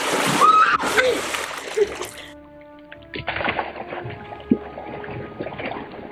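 Cardboard is slapped and dragged through water in an attempt to walk on it, a loud splash at the start followed by lighter sloshing and scattered drips, with people's voices mixed in.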